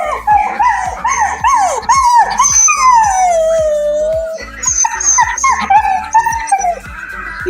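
A sad puppy howls and whimpers up close, its wavering, rising and falling cries running almost continuously and loudly.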